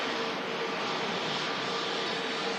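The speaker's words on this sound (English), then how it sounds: "This is the EasyJet that we flew on down to Amsterdam" EasyJet airliner at Manchester Airport, a steady broadband engine roar holding at moderate level from start to finish, no voices over it.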